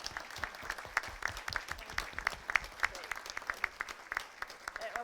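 Audience applause at a presentation, a brisk patter of individual hand claps, moderately near, continuing steadily for several seconds at a fairly quiet level.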